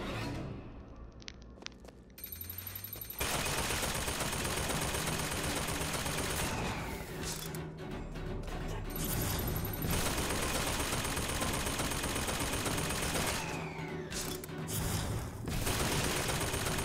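Sustained gunfire in BioShock Infinite, dense overlapping automatic bursts and shots filling the clip loudly after a quieter opening, with short lulls between volleys.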